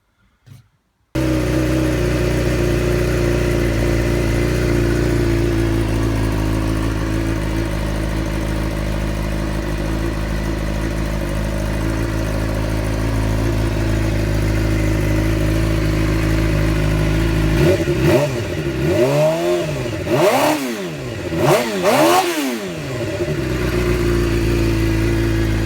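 A Suzuki GSX-R 600 motorcycle with a modified exhaust idles loudly and steadily, then gives several sharp revs near the end, close up and alone.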